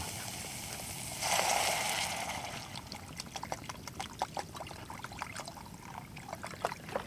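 Water pours from a bottle into a cooking pot on a kitchen stove: a louder gushing surge at first, easing into a lighter trickle with small splashes and clinks as the flow tapers off.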